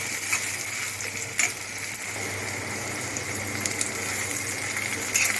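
Curry leaves and five or six dried red chillies frying in hot oil for a Tamil mutton uppu kari, giving a steady close sizzle with a few sharper crackles and pops, and no talk over it.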